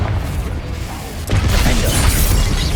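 A Confringo blasting spell goes off in Hogwarts Legacy, a loud, dense burst of crashing, rumbling combat noise that swells sharply about halfway through and stays heavy to the end.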